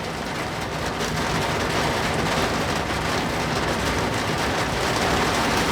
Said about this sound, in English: the rain sound right now is soothing to me